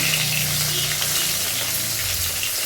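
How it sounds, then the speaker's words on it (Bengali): Steady, dense sizzling of fish frying in hot oil, close and fairly loud, with a low hum underneath throughout. "আমি মাছটা ভাজছি"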